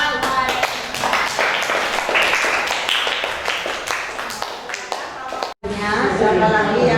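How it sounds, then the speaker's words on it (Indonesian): Classroom applause after a student group presentation at a junior high school in Brebes, with rapid claps from many pupils mixed with chatter and shuffling, briefly cut off near the end before the noise resumes. "Tepuk tangan."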